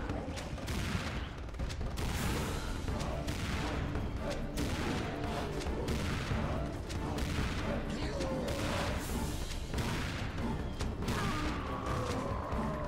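Shotgun fire in the video game Serious Sam 2, played on Xbox 360: loud, rapid blasts repeating every second or so in a dense, relentless barrage.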